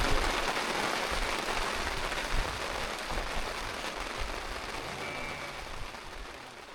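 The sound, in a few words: rain falling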